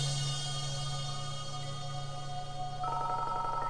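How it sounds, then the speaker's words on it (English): A telephone rings with a steady electronic tone that changes pitch near the end, heard alone at moderate level. "I get phone calls at the most interesting time."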